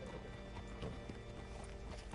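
Horse hooves clip-clopping in the video game Red Dead Redemption 2, a soft, steady walking rhythm of hoof beats under low background game ambience.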